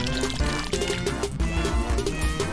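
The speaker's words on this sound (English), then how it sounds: "Do I need to pour more? I guess I'll do that." Drink being poured in the video game Later Alligator, a dense liquid trickle running steadily for a couple of seconds beneath busy game music.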